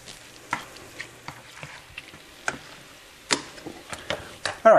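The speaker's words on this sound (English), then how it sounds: "Now mix everything through each other." Low carb shepherd's pie beef mixture being stirred in a pan, a faint background sizzle broken by scattered scraping and tapping knocks from the spoon, ending in a louder clatter.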